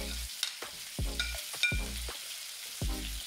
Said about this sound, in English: Just going to fry all this fish, lightly fry it.